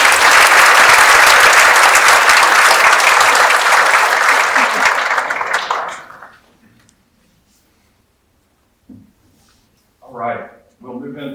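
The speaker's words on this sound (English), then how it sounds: "let's give Dr." An audience claps loudly and steadily for a speaker at a talk, the round of applause fading out after about six seconds, followed by quiet and a few brief bursts of speech.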